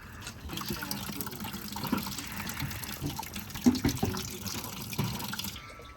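Radiator coolant from a 1994–2002 Dodge Ram 5.9 turbo diesel drains into a bucket with a steady splashing gush and occasional gurgling bubbles, close by and continuous, with faint voices underneath.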